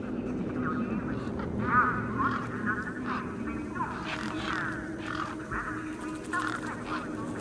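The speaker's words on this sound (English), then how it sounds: "Those birds weren't going to let me anywhere near the back of the truck." A flock of birds squawks and honks near a truck in the video game Beyond a Steel Sky, with overlapping cries scattered through a steady low hum under faint voices.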